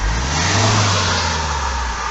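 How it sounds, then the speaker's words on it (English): A Kia Venga 1.4 CRDi diesel engine revs loudly and close by, a dense steady roar that swells slightly and holds throughout. "Right, the car's been revved."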